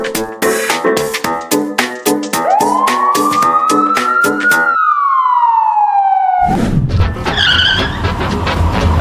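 A police car siren wails loudly in a steady rising and falling tone, layered over the chaotic rush of road traffic during a road-rage incident, with a burst of skidding and engine noise taking over at the end.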